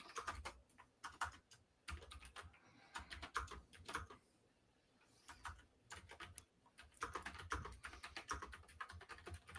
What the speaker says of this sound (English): I gotta type in the thing so everybody knows what we're doing.